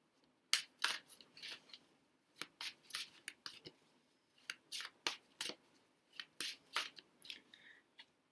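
Playing cards are shuffled and dealt by hand, making short crisp snapping and flicking bursts in an irregular rhythm, close and fairly quiet, with no talking.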